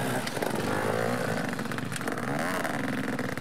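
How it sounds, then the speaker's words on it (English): A KTM motorcycle rides close by on a rocky trail, its engine loud and continuous with revving pitch shifts over a few seconds. "Jason on the mighty KTM. Nailed it. Cruising right up through"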